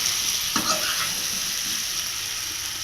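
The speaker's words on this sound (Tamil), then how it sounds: "எண்ணெயில் கிளறணும் லைட்டாக கொஞ்சம் செம்மில் வச்சுக்கலாம்" Sliced raw banana (vazhakkai) stirred in hot oil for a Chettinad fry, a steady loud sizzle with one brief scrape of the spoon near the start, close up and without talk.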